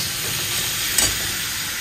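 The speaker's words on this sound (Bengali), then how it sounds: "একটু আলু পেঁয়াজ ভাজা" Potato and onion frying in a pan with poppy seeds, a steady close broadband sizzle running throughout with one brief louder burst midway.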